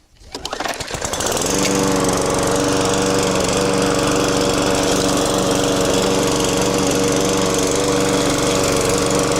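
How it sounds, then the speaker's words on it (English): A farm lawn mower engine cranks and catches after a brief sputter, then settles into a loud, steady running drone that holds close and constant for the rest of the stretch. "let's see if the mower wants to start now"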